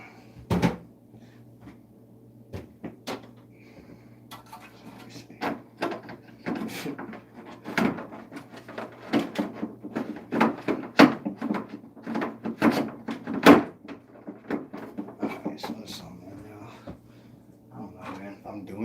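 Plastic drawers and shelves in a month-old refrigerator are shifted and handled, giving a long series of irregular clunks, knocks and rattles over a low steady hum.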